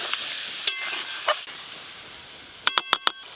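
Mixed vegetables fry with spices in a pan, a soft continuous sizzle broken by a few sharp scrapes of a spoon stirring against the pan, with a quick cluster of clinks near the end.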